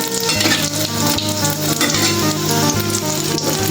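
Gram-flour chilli bhaji fritters fry in hot oil, a steady dense sizzle and crackle running loud and unbroken throughout.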